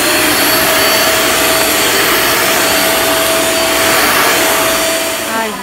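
An Iris Oyama vacuum cleaner, a Japanese brand, runs continuously in a store, giving a loud, steady broadband whoosh with a faint high whine throughout, apart from a brief dip near the end.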